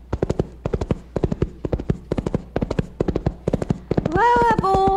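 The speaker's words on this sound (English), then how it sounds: "Well, let's ride over and ask Smithers about it." Horses' hooves clip-clop in a brisk, even rhythm as riders arrive in an audio drama, close and distinct, before a horse whinnies with a drawn-out neigh at the end.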